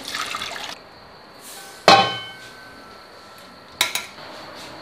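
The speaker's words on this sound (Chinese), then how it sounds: "再用一个更细的漏勺来过滤一下。" Fish soup is poured through a fine metal strainer in a home kitchen: sharp clinks of the strainer against the pot, then a short run of liquid splashing through, with a second clatter near the end.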